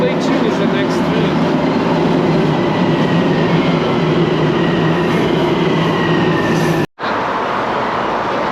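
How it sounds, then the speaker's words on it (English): A green Miami Metrorail train pulls into the station with a loud, continuous rumble and rail roar and a faint whine, steady throughout and briefly cut off near the end. "It's another green train. Now arriving again."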